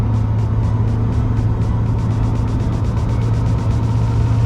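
A Ford Super Duty pickup tows a 33-foot triple axle trailer at speed on an interstate, making a steady loud engine drone and road roar with a rhythmic repeating thump from the tires, with no talking.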